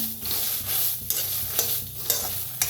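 Black beans dry-roasting in a pan without oil make a close rattling, scraping stir sound, with regular spatula strokes sliding through the beans and sharper clicks at intervals, and no talking.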